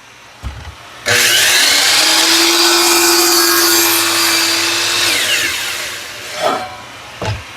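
A power saw spins up and cuts through a wooden hexagon piece with a loud, sustained whine for several seconds, then winds down as the blade slows.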